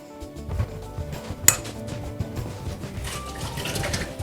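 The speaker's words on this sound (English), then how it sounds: "we're gonna fill this bowl with water" Water running into a bowl with clinks of dishware, a gentle splashing flow alongside a sharp clink near the start; kitchen setting.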